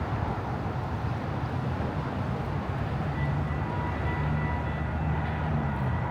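A train rumbles past at steady volume, a dense low roar with faint squealing tones riding on top, continuous and fairly close throughout with no voices.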